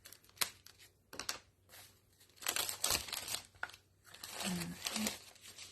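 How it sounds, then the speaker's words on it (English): Cellophane wrap being pulled off a paper card kit, with close crinkling and tearing in several bursts and a voice speaking between them. "Take off that cellophane wrap."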